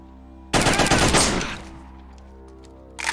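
Automatic gunfire in the shooter game Stalker Lost Alpha, a loud sustained burst of rapid shots lasting about a second and fading, then a second burst starting at the end.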